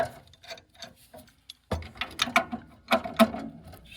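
A wrench cranks down the incoming gas line at the valve of a Goodman gas furnace. After a brief hush, short, close ratcheting clicks come in quick strokes.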